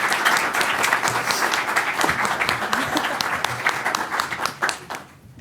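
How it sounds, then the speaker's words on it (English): A seated audience gives students a warm round of applause after a youth mock board meeting, thick continuous clapping that tapers off near the end. "Let's give them another round of applause."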